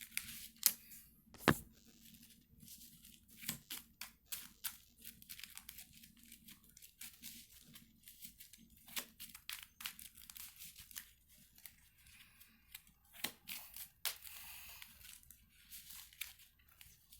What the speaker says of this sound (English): Give me 1 second to shuffle my deck.